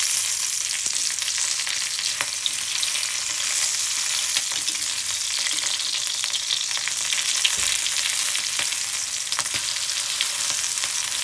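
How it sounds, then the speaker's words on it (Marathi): Cauliflower and peas frying in oil for a spicy gobi matar sabzi, a close, continuous hissing sizzle with faint crackles and occasional stirring taps, no voices. "याला भाजून घ्यायचं आहे तेलामध्ये।"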